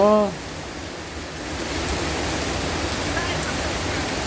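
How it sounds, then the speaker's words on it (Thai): Rain falls steadily outside a house, a constant loud hiss that continues after a brief voice at the start. "ทีนี้เหลือแต่ฝน"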